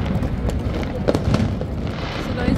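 Firecrackers burst somewhere in Dubai, heard from inside a hotel as a series of dull distant booms and pops over a low continuous rumble.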